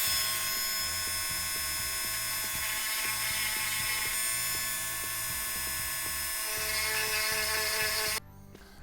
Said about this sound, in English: I had to give it a little touch with the Dremel.